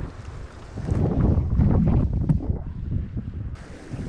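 Strong wind roars and buffets the microphone while windsurfing off Maui, a continuous rushing gust that swells in the middle, with water splashing faintly beneath.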